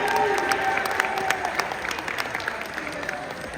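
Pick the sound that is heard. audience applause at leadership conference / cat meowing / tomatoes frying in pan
audience applause at leadership conference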